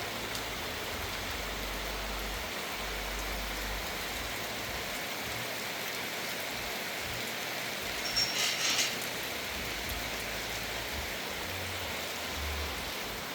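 Steady rain hisses evenly throughout, a constant soft wash of falling drops with a faint low rumble underneath.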